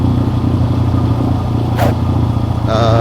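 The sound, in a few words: TVS MAX 125 custom scrambler motorcycle engine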